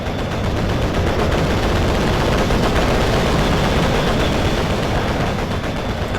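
Bombs explode in a fighter plane video game, a loud, unbroken roar of blasts and crackling fire packed densely together with no pauses.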